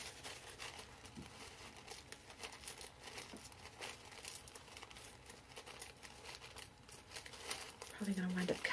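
Paper is torn and crinkled by hand, giving faint, close rustling and ripping with scattered sharp crackles, louder toward the end.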